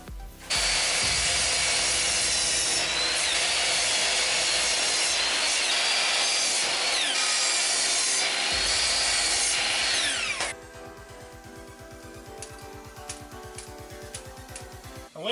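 A power saw cuts a wooden frame piece to length, a loud continuous high whine of blade through wood lasting about ten seconds, then cutting off abruptly into quieter scattered clatter and handling noises.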